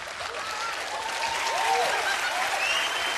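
Audience applause at a Bulgarian television singing show, a dense steady wash of clapping with a few faint voices and whoops rising through it, loud and continuous.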